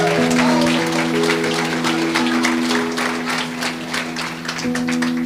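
A church congregation clapping, steady brisk applause under sustained musical tones, with a brief voice near the start, loud and continuous.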